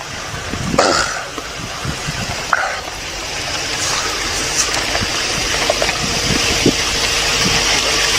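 Car driving along a road, a steady broadband rumble of engine and road noise that holds at a constant level throughout, with a few faint knocks and clicks in the cabin and no talk.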